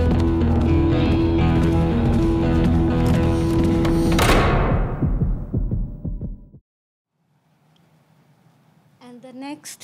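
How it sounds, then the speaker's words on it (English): A heartbeat thumps in an animated film about a little girl whose heart beats faster than other people's. Dense, loud music with steady throbbing pulses runs for several seconds, then cuts to near silence before a voice speaks. "there was a little girl whose heart beat faster"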